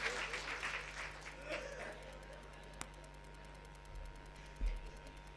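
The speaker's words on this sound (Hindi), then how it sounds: "एक बार जोरदार तालियों से जनाब सराफत अली खान साहब का इस्तकबाल करेंगे।" Faint applause welcomes a guest speaker to the stage at a community gathering. The clapping is brief and strongest in the first two seconds, then dies away beneath a steady electrical hum from the sound system.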